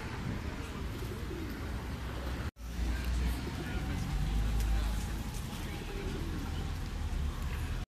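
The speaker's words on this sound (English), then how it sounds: "there's always a lot of pigeons waiting to be fed" Pigeons in a sunny Cork city centre park, waiting to be fed near a pond, give soft low coos amid steady outdoor ambience and distant traffic, with a brief dropout partway through.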